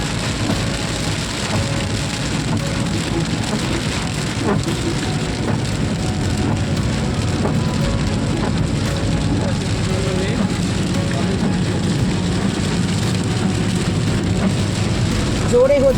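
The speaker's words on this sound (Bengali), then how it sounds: "খুব জোরে বৃষ্টি হচ্ছে" Steady, heavy rainfall roars continuously at Ayodhya Hills, Purulia, with a voice briefly speaking over the downpour.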